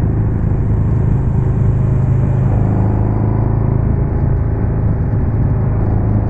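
Harley-Davidson Street Glide with Rinehart DBX45 exhausts rumbling steadily on a twisty highway at higher RPM, a continuous loud, close engine drone with no break across the whole stretch.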